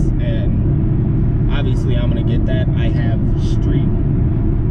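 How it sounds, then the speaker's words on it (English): Steady low road rumble fills the cabin of a 2016 Camaro SS on NT555R street drag tires with 305s at the back, droning continuously beneath someone talking throughout. "The only noise you hear inside the car is just the casual road noise"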